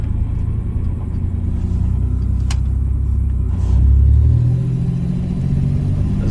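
Ferguson TO30 tractor engine held at about half throttle, a loud, steady low rumble close by that swells briefly midway before settling back to an even idle-like drone.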